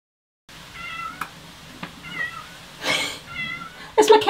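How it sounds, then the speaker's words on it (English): A house cat meows repeatedly from outside a closed room, several drawn-out plaintive calls spaced a second or so apart, moderately loud, with a louder, harsher cry at the end. "That's my cat moaning because she's not allowed in here"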